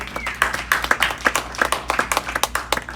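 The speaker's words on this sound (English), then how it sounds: "You can clap if you want." An audience claps in a brief burst, a run of sharp, fairly close handclaps in an uneven rhythm lasting a few seconds, with a low background hum beneath.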